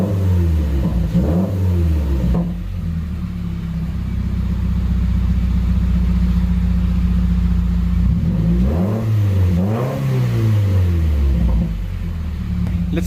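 A Subaru WRX 2.0 engine on its first startup after all its valve shim spacers were replaced, idling steadily with a low rumble and rising briefly in two revs, near the start and near the end. No one speaks.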